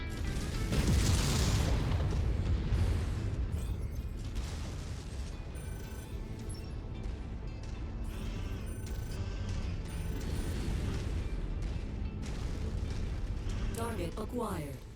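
Missiles burst in a MechWarrior 5: Mercenaries battle, a rolling series of booming explosions and rumbling impacts layered over mechanical clanks, continuous and heavy throughout.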